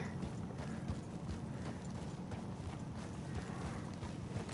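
Horse hooves clip-clop steadily in Red Dead Redemption 2, a close, continuous run of hoofbeats on rough, rocky ground with no talk.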